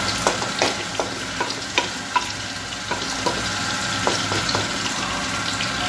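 Smooth, mashed mustard-green saag cooking in a pan, a close, steady bubbling sizzle with repeated soft spoon taps and scrapes in an uneven rhythm, no talking.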